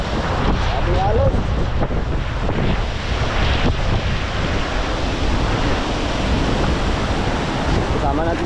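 Strong wind and waves pound the shore during a typhoon, a loud, dense roar of surf with heavy wind buffeting the microphone throughout and voices faintly audible underneath.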